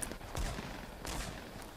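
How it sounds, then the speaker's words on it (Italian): Gunfire in the video game Fortnite: two short, sharp bursts roughly a second apart, fairly close, with no talk over them. "Sento spari."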